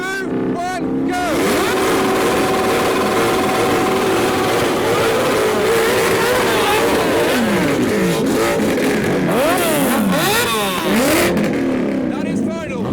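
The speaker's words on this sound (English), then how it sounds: "to rev together the Mustang and the bikes" An E63-powered Mustang and several motorbikes rev together in a loud rev battle, with engines roaring, rising and falling in repeated sharp swells over crowd noise and voices.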